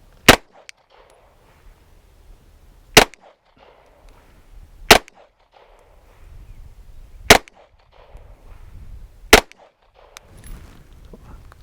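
Five sharp, loud pistol shots crack at uneven intervals of about two seconds at a range while a red dot sight is zeroed, with quiet handling noise between them.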